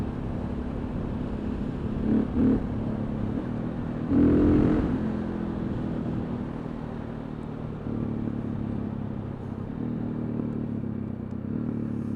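A 2003 KTM 525 EXC single-cylinder dirt bike engine while riding: a continuous low drone with brief throttle surges rising and falling, close and steady throughout, no talk.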